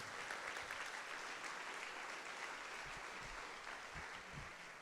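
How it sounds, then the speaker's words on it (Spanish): A congregation applauds together in praise inside a church. The clapping is continuous and crowded, heard from across the room at low level, and holds steady with a slight fade near the end. "¿Cuántos le dan palmas de alabanza al Señor por eso?"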